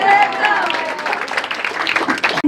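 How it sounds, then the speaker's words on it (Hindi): Audience applause at a club induction and installation ceremony, a brief burst of clapping with crowd noise and some voices mixed in, ending abruptly. "कैपेसिटी पे तालियां हो जाए"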